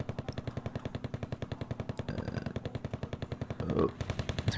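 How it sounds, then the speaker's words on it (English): In a war strategy game, an AMX-13 fires on an M113 with a rapid, evenly spaced burst of gunfire that runs throughout, with occasional heavier impacts mixed in, loud and unbroken. "Oh, AMX-13. Shooting up an M113."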